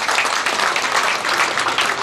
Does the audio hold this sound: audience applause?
yes